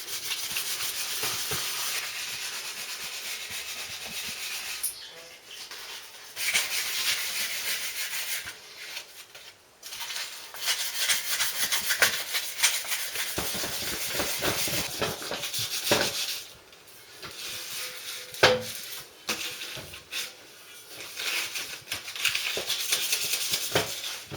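Hand sanding keys the surface of a hard stainless pipe on a Triumph being stripped for paint: close, continuous gritty rubbing strokes in long bursts with short pauses, no talking.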